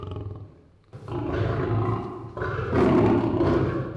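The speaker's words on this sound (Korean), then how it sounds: "던져준 닭을 한 입에 받아 뼈까지 남김없이 씹어먹는 사자" A lion at a zoo or animal facility roars loudly and raggedly in two long bursts while eating a thrown chicken, close and clear with no talking.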